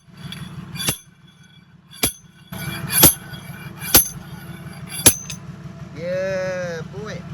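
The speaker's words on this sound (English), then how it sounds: "Slide hammer is attached." A slide hammer on a Mercedes OM606 engine delivers five or six sharp metallic clanks at roughly one-second intervals against a low steady hum, pulling a plug from aluminium threads, followed by a brief whirring sweep at the end.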